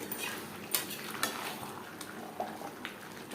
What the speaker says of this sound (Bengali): মাংসের সাথে আলু বেশ ভালো করে মিক্স করে দেবো